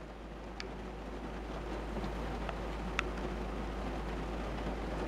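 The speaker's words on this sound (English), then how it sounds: "I don't know if you can hear the rain." Heavy, steady rain falls outside as a continuous broadband hiss, with a few faint sharp drips or taps standing out, heard from indoors and with no talking.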